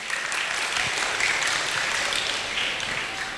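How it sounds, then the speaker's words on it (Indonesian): Applause from an audience at an anniversary gathering of Nahdlatul Ulama, with many hands clapping in a dense, steady roar that holds throughout. "Tepuk tangan buat beliau."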